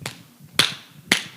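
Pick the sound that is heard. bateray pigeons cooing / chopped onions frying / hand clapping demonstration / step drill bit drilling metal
hand clapping demonstration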